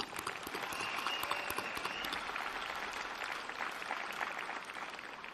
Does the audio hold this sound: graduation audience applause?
yes